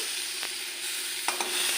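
Taro pieces frying with spices in a pan for a Bengali ilish fish curry, a steady close sizzle with a few short stirring scrapes and clicks and no talk.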